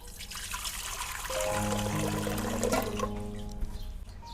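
Water pours steadily into a pressure cooker holding chickpeas, a continuous trickling and splashing that fills the kitchen at close range with no talk over it.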